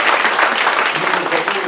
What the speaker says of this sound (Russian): Давайте еще раз пастору Сергею аплодисменты.